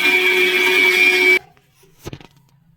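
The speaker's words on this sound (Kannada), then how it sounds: "ಸರಿ, ಮಿಕ್ಸಿ ಮಾಡ್ಕೊಂಡು ಸಿಗೋಣ." Electric mixie grinder whirring loudly and steadily while blending masala for tomato bath, cutting off abruptly partway through, followed by a brief clatter and near silence.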